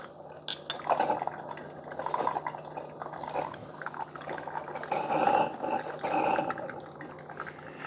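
Water gurgles and drips through a Cuisinart SS-12 coffee center during a freshwater rinse, with uneven bursts of trickling and sputtering close by.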